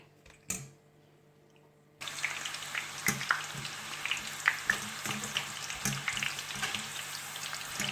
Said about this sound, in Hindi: और इसी तरह ये बाकी जो है इसको भी अब फ्राई कर लूँगी।